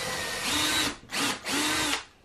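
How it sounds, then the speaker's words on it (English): A power drill pre-drills holes in wooden French cleat pieces for a workshop mount, running in two loud, sustained bursts with a short pause between them and no talking. "which means I need to have a couple of pre-drill holes here on this side"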